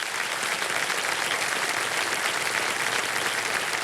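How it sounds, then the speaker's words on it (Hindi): Loud, dense applause from the studio audience of a TV quiz show, many hands clapping in a continuous, even roar that holds steady for several seconds with no talking over it. "एक बार जोरदार तालियां महेश जी के लिए बज जाए।"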